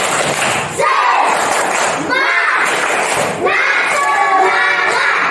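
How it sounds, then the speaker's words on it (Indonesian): A group of schoolchildren or teachers performing rhythmic spirit clapping (tepuk semangat) in a loud, crowded room, with bursts of claps mixed with voices and chanting throughout. "Tepuk semangat."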